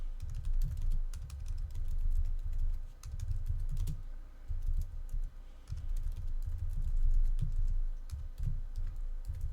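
Fast, uneven clatter of keys on a computer keyboard while code is written, close and fairly quiet, with short pauses between bursts of typing.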